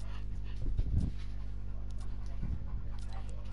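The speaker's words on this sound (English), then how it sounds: "This dog is so annoying." Dog panting and whimpering in the video game Fortnite: quick, breathy panting with a couple of short whimpery bursts, close and moderately loud over a steady low hum.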